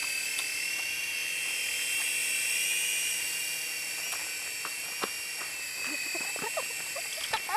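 A model helicopter's rotor whines steadily as it spins up for flight, a sustained high-pitched tone running throughout with light clicks and taps near the end.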